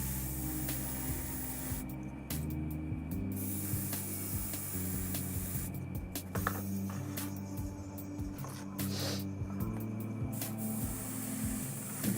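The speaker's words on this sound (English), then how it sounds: "This is why you want an airbrush." An airbrush sprays a base coat onto Lumineth Realm-lords miniatures, a soft continuous hiss over a constant mechanical compressor drone, with short spray bursts starting and stopping several times.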